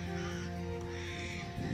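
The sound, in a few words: all-black bird calling like a crow, cawing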